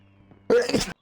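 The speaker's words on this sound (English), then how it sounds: "I'm going to sneeze." A single short, explosive sneeze bursts out after a faint low hum, close and loud.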